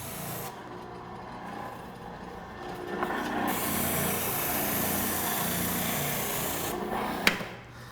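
A spindle sander works a piece of wood with a steady abrasive rasping hum that holds for several seconds, then cuts off, with a sharp knock near the end.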